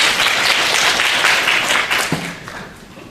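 Sustained applause from an audience at an architecture and urban planning forum, steady clapping that holds for a few seconds and then begins to taper off.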